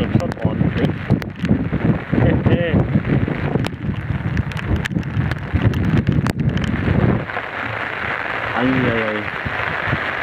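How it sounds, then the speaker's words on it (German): Wind buffets and rain patters during a thunderstorm, heard near the car with gusty rumbling noise and sharp drops hitting surfaces, while people talk over it before the roar eases. "Und es regnet schon ordentlich."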